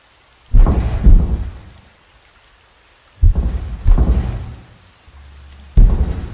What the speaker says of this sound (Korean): 비가 내리는 밤,